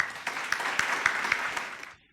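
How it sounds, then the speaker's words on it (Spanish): Audience applause greets a speaker at an architecture book presentation, a steady patter of claps with a few sharper hand strikes, lasting about two seconds before cutting off abruptly. "Lo recibimos con fuertes aplausos."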